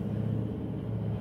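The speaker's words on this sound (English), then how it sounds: "traffic." Low, steady rumble of road traffic from a parking-lot setting, a continuous moderate drone of passing vehicles with no talk.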